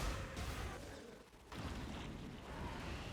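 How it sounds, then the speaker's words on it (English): Bladefall explosions in the video game Path of Exile make a dense, continuous roar of overlapping blasts and rumbling, fairly quiet overall with a brief dip in the middle. "You can really see these explosions, like how big they are."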